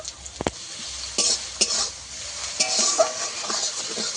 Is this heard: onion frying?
yes